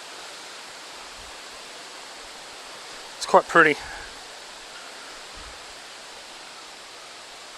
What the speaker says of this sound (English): you just got the water trickling down over so many different rock